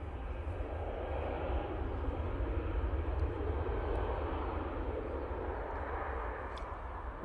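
Ryanair airliner jet engines at Manchester Airport, a steady, loud, broadband roar that holds evenly throughout without talk.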